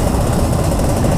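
A 1997 Yamaha F1ZR two-stroke motorcycle built for touring runs steadily up close, its engine churning a loud, continuous broadband drone with no gaps and no voices.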